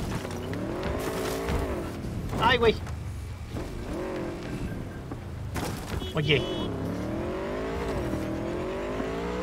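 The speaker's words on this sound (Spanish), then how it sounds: "A ver qué tal esta moto." A motorcycle ridden through city streets in Cyberpunk 2077, its engine droning steadily with pitch rising and falling through the ride, joined by a couple of short squealing bursts, while someone talks over it.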